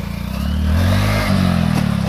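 A Hero Glamour motorcycle revs up loudly nearby during a wheelie attempt, the engine note climbing and holding with a rough, throbbing pulse, then a brief clatter and another surge.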